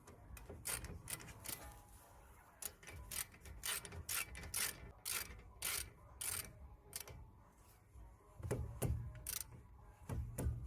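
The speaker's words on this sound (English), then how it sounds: "Just gonna torque it up" A torque wrench ratchets as it tightens the lower suspension arm bolts on a Nissan Leaf, giving a quick series of close, crisp clicks in short bursts with brief pauses between strokes.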